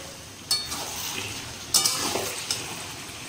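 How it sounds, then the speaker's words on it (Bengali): Chicken marinated in sour yogurt being stirred and sautéed in a pan, giving a soft steady sizzle broken by a few sharp scrapes and clinks of a utensil against the pan. "চিকেনটা সুন্দরভাবে কষাচ্ছি, আর একটু টক দই দিয়েছি যেহেতু"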